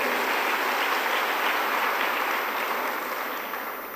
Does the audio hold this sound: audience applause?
yes